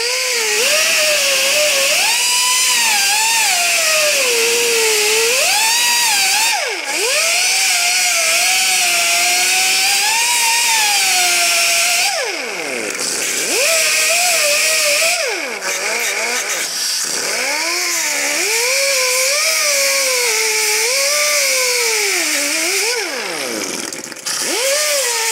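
A small angle grinder cuts metal on the rocker panel of a 1961 VW Bus, a loud, close high-pitched whine that dips and rises as the disc bites, with short pauses between cuts.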